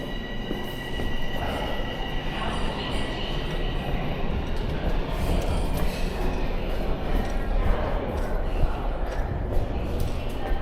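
A subway train rumbling through Dundas station in Toronto, a loud continuous roar of wheels and carriages with high squealing from the rails, reverberating in the underground space.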